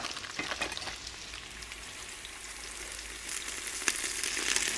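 Curry leaves and lemongrass fry in hot oil, giving a steady close sizzle with crackling pops that swell louder toward the end, with no talking.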